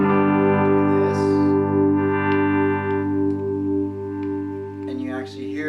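A sustained electric guitar tone, heavily distorted through a distortion pedal, rings out with a thick buzzing sustain, slowly fading, with brief string noise near the end.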